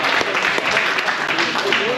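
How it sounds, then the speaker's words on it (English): Dense applause and cheering from a crowd at a hunters' party, loud and close, with voices mixed into the clapping throughout the two seconds. "Why don't you give them a round of applause, Mark?"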